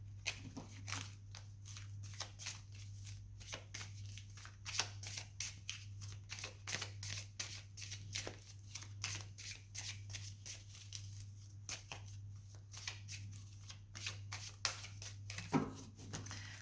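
Oracle cards being shuffled by hand, a quiet, close papery flutter of repeated riffles and slides in irregular bursts, with no talking.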